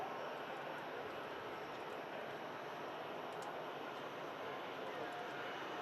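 An Airbus A330 departs Manchester Airport for Bridgetown, its engines a faint, distant, even roar that holds steady throughout.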